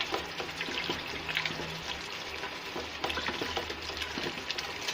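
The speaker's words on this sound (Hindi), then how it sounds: "और मसाले को बहुत अच्छे से भूनेंगे।" Salt, chili, dried coriander, cumin and turmeric fry in hot oil for a Punjabi-style kidney bean curry. They make a steady, continuous close sizzle with faint stirring and no talk.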